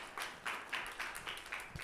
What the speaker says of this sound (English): Everyone, please give a warm round of applause for Ashton